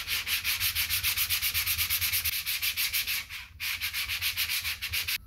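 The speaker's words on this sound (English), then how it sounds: "it makes it great for holding when you're sanding with the block" A sanding block, its paper glued to a length of 2x lumber, rubs over wood in quick, even back-and-forth strokes. The rasping is loud and close, with one brief pause, and no one speaks.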